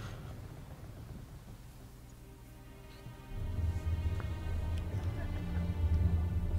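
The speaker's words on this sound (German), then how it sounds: "Der Sturm." Stormy weather at sea in the video game Assassin's Creed 3: a low, steady roar of wind and rumbling storm noise that grows louder and heavier partway through, with no speech.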